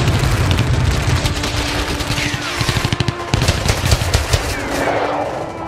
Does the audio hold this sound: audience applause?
no